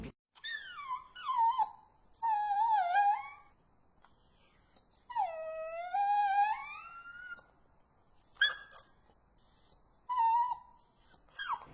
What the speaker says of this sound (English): You're trying to get people to vote by showing them whimpering puppies?